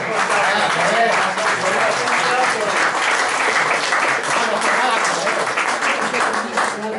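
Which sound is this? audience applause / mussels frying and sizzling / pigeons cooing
audience applause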